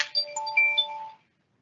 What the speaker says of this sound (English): that alert that we've just heard is to indicate that the hearing is due to start any minute now